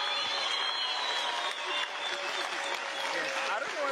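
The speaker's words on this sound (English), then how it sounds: "I don't know what you're clapping for." Audience at a council meeting clapping steadily throughout, a dense, even burst of applause from many hands filling the room, with talk faintly mixed underneath.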